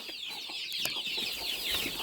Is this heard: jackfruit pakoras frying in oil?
no